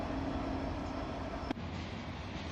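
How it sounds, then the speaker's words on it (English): Heavy coal train with helper locomotives rolling past, a steady loud rumble and rail roar filling the whole stretch, with a brief sharp clank partway through. "This coal train also has helpers on the end."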